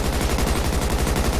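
Rapid automatic gunfire crackles in the video game GTA V roleplay, a steady, continuous stream of evenly spaced shots at moderate loudness with no pause.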